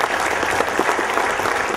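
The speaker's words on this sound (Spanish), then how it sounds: "Un aplauso, por favor." A crowd at the inauguration of a family community centre in Tamaulipas breaks into steady, loud applause, many hands clapping together with a light murmur of voices beneath.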